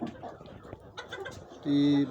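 A silver Brakel hen clucks softly amid low background noise, followed by a brief sustained call at the end.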